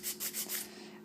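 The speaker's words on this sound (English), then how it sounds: "So I do prefer the hand filing." Hand file rasping across an acrylic edge nail, four quick back-and-forth strokes with a close, breathy scratch that fades out.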